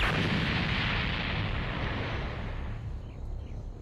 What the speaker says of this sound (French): C'est le bruit d'un volcan qui vient d'entrer en éruption